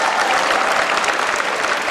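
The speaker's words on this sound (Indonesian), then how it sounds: "Tadi boleh tepuk tangan dong dikit-dikit katanya" Audience applause at a gathering welcoming a presidential candidate, a brief steady wash of many hands clapping.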